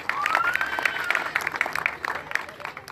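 An audience applauds at a kite festival on Cerro de la Estrella, with scattered, moderately loud claps and crowd noise, and a voice comes through faintly.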